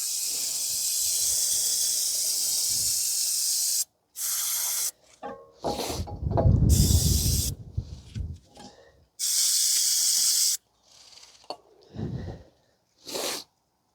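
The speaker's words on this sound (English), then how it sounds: "spray some brake cleaner on the caliper" Repeated hissing blasts of aerosol brake cleaner sprayed on a 2012 Toyota Corolla front brake caliper, some long and some short, separated by pauses and a rustling clatter of handling in between.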